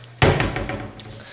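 A small cupboard door in a newly rented apartment swings shut with one sharp, close slam, followed by a short rattling decay and a faint knock near the end.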